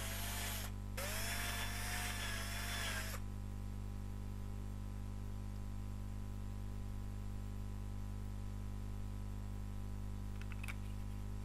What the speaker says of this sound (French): Donc je perce son placement des aimants.